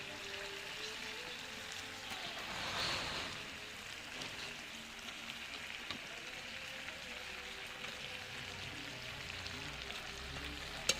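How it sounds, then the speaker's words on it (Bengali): Fried potatoes cook with spices in a clay pot, giving a soft, steady sizzle that holds an even hiss throughout, faint and continuous with no talking. "আলুগুলো দিয়ে মশলার সাথে বেশ কিছুক্ষণ কষাবো"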